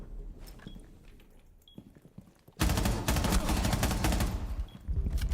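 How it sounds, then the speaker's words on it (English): Gunfire in Rainbow Six Siege X opens with faint distant shots, then erupts into loud, sustained automatic fire and a dense barrage that continues to the end. "I hear shooting"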